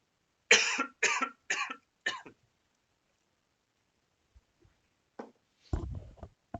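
A coughing fit from one person indoors: four harsh, close coughs in quick succession, a pause of near silence, then a few softer coughs and throat sounds.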